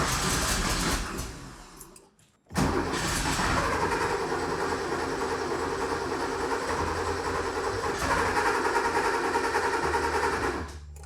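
An abandoned Porsche 911 engine cranking on its starter motor, a loud, continuous rapid mechanical chatter that drops out briefly near the start, then runs steadily for several seconds without anyone speaking.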